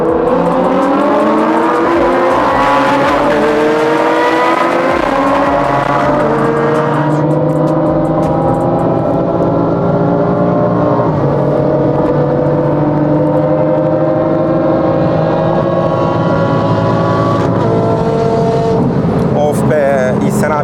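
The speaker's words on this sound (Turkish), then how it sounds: "Senin arabadan da ne sesler geliyor ya" Car engines rev hard and continuously at the start of a street race in Istanbul, pitch climbing as they accelerate, with voices underneath.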